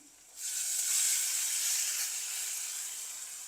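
A sudden steady sizzle rises as tamarind extract is poured into hot oil in a clay pot for fish curry, hissing loudly and then slowly easing off, with no voices.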